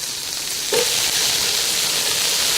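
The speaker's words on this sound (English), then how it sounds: "I don't want to color these, I just want to sweat them. That means just stirring them, gently heating them through" Onions sweating in a hot pan over gentle heat, stirred steadily, with a soft continuous sizzle and faint scraping close up and no voices.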